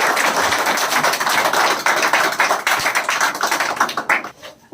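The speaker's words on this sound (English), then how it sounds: "Clap for them." A classroom of students in a spoken English class claps for classmates, a loud dense burst of many hands applauding together that thins out and stops at the end.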